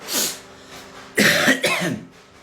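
A few harsh coughs, one early and two louder back-to-back bursts, close up with no talking.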